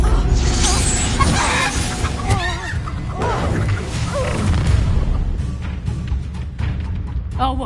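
The Incendio fire spell from Hogwarts Legacy, a busy mix of whooshing bursts, crackles and impacts during combat, with voices calling out over the effects.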